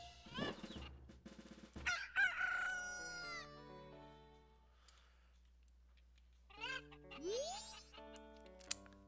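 Roosters crow in The Legend of Zelda: Majora's Mask on the N64, heard as bright synthesized crowing calls in two bursts separated by a quieter stretch, mixed with game sound effects.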